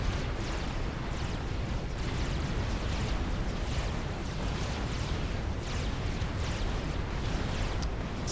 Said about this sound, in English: That's so much artillery.